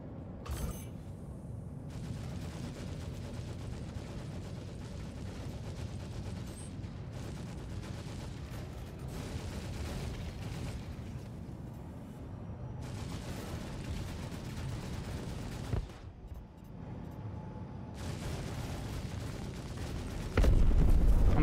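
Ship turret gunfire during a Star Citizen space battle, a continuous heavy rumbling stream of cannon fire with brief gaps, steady and loud throughout, ending in a sudden louder blast.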